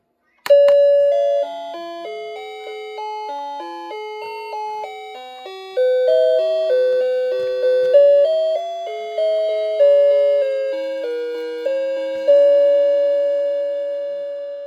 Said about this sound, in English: That's a really cool chime.